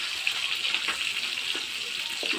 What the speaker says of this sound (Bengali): ওই ডিমগুলো দিয়েছি তো, তাই একটু নাড়াচাড়া করতেছি